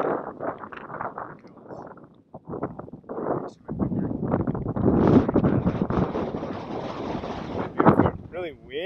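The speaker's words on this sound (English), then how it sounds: "It's really windy here, so you might not be able to hear me." Strong wind at the Badlands in South Dakota buffets the microphone in loud, gusting rumbles that swell and drop irregularly, mixed with a person talking throughout.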